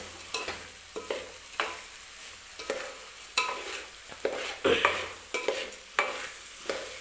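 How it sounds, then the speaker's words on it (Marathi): A spoon scrapes and stirs rice with vegetables in a hot pan while making veg pulao, with about a dozen rhythmic strokes, each followed by a light sizzle. No one speaks. "तांदूळ टाकून घेतलेला आहे आणि व्यवस्थित मी भाज्यांसोबत मिक्स करून घेते"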